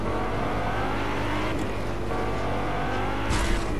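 A Lamborghini sports car driving in Fortnite gives a steady, loud engine drone that shifts pitch as it accelerates, with a brief squeal near the end.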